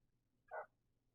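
A single short bark from a pet dog somewhere in the background of a quiet room, faint and brief, with no talking over it.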